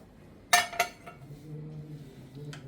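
A lid lifted off a hot pot of steamed chicken bhapa on a gas stove, giving two sharp metallic clinks close by, then a low simmering hiss and a faint final clink.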